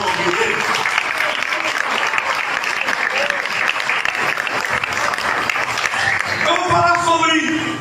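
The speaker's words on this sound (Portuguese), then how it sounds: "Adore, glorifica com palmas e exalte o nome dele." A church congregation claps steadily and loudly throughout worship, a dense continuous wash of hand claps with voices singing or calling out beneath, a few sustained sung notes rising near the end.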